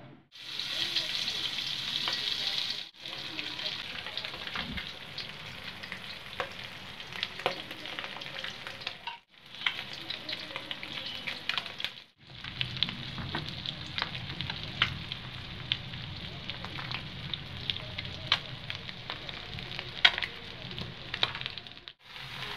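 Hot oil frying in a heated wok, a steady broad sizzle with stirring scrapes, briefly dropping out twice and then resuming with a fuller, louder crackle toward the end.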